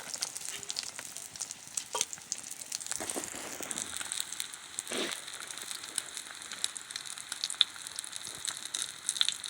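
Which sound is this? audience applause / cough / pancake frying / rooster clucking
pancake frying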